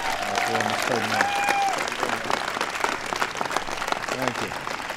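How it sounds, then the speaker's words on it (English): An audience at a White House event honoring the Super Bowl champion Denver Broncos applauds Peyton Manning, with steady, dense clapping throughout and a voice speaking over the start. "please give a big round of applause for Mr. Peyton Manning"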